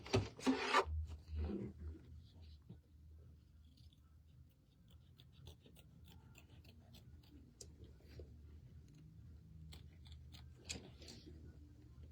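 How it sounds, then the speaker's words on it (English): Scissors trimming applique fabric close to the stitches around a heart shape, a quiet run of soft snips and rubbing fabric rustles, with a louder handling noise at the start. "we're going to trim our applique fabric all the way around close to our stitches"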